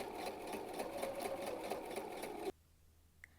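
A sewing machine back stitching a framed clutch purse, a steady fast mechanical whir for a couple of seconds that stops abruptly, followed by a soft click.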